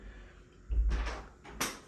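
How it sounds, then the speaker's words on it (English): An indoor door is pushed shut at night, with a heavy thud, a short scrape and a second soft knock as it settles, close and fairly quiet. "Let me close the door"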